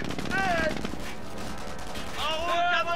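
Gunfire crackles through a World War II battle in Company of Heroes: Tales of Valor, a steady clatter of distant shots running under voices with radio-style chatter and harmonic tones.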